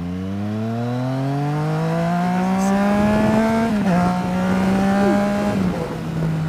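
Yamaha MT-09 SP motorcycle accelerating hard through gears with a quick shifter, loud close engine note rising in pitch, dipping briefly at a clean shift around the midpoint, then climbing again before another shift.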